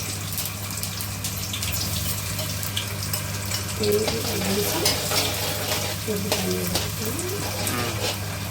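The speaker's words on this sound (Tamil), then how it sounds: "ஜீரகம் பொரிஞ்சு வரட்டும்" Cumin seeds sizzle in hot oil in a pan along with cloves, cardamom and cinnamon, a steady close frying hiss over a low hum, with sharper crackling pops and spluttering from about the midpoint onward.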